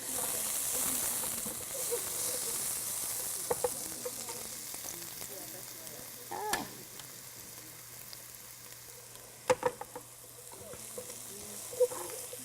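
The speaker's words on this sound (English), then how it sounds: "we're going to let those soften a little bit, the onions brown up a little bit." Onions frying and browning in a pan, a soft steady sizzle that fades slightly over time, with a few sharp utensil knocks and scrapes scattered through, near and without talk.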